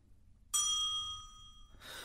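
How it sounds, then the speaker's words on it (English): Bell rung indoors in a period household, a single clear ding that rings out and decays over about a second, followed by a faint rustle. "Go and ring the bell, please, Bella."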